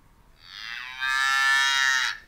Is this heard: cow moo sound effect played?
yes